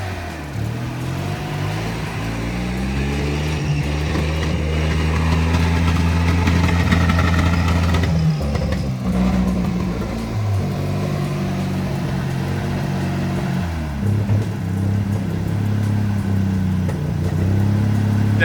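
A Mazda RX-7 GSL-SE rotary engine, first started after sitting 16 years, runs loud and close with a rough, uneven idle and rising and falling revs throughout.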